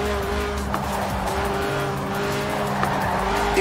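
Tires squealing steadily as a lightweight Lotus Elise with a 1.8-litre engine drifts in the Forza Horizon 4 racing game, the screech sustained over a revving engine without pause.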